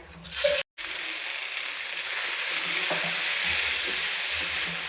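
Water spinach fries with crushed garlic and chilli in a hot pan, giving a loud, steady sizzle and hiss after a brief silence, with light stirring scrapes throughout.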